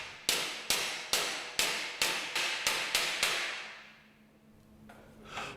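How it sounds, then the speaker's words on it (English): Eight sharp metal hammer blows strike a welded joint in a TIG welding job, landing in a steady, slightly quickening rhythm and ringing briefly after each hit, then fading to quiet with a faint knock near the end. "A few hammer blows along the unsupported section will result in bending back the joint sufficiently"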